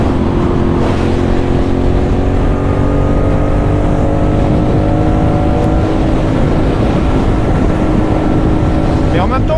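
A CFMOTO 450NK roadster motorcycle engine revving above 6000 rpm while cruising at 110-115 km/h, giving a loud, steady, droning whine with wind rush throughout, with a rider talking over it.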